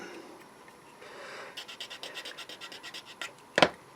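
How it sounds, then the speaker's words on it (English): A part from an AMT 12-inch vinyl Star Trek figure kit is sanded by hand, a close series of quick, rhythmic rasping strokes that builds after a quiet start and ends with a sharper scrape. "that's just a little bit of the sanding"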